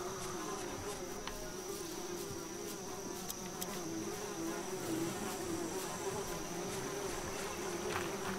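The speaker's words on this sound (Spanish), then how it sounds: "Claro, está la mosca esta." A fly buzzes steadily and close in the video game Yuppie Psycho, a continuous droning hum that holds without a break and has no talk over it.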